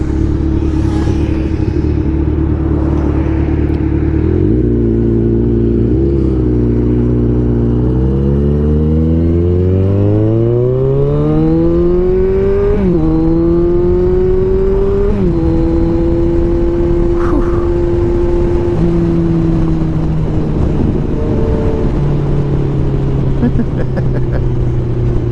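A 2016 Kawasaki Ninja 1000 motorcycle engine on the road, droning loud and steady as revs rise and fall through gear changes, with faint deceleration pops on a light throttle and strong wind rush throughout.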